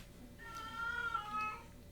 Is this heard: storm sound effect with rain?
no